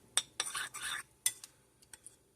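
A spoon stirs a peanut sauce mixture for slow cooker rib tips in a bowl, giving several close clinks and scraping swirls, loudest in the first second, then a few lighter taps.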